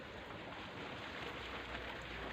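Steady broadband hiss of water spraying, continuous and even throughout, like a sprinkler or hose spray close by.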